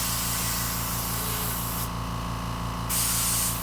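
Paint sprays over a custom stencil in a steady, loud hiss. The spitting overspray runs without pause over a low, pulsing machine hum.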